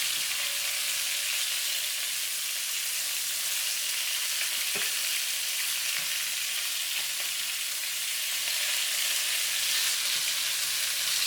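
About ten black tiger shrimp pan-fry in a hot pan, producing a loud, even crackling sizzle that holds steady without pause for the whole stretch.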